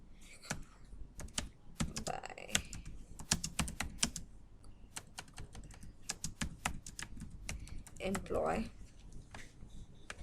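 Rapid clicking keystrokes on a computer keyboard as a remark is typed into an office software form, steady and close, with speech-like murmur and a brief louder burst partway through.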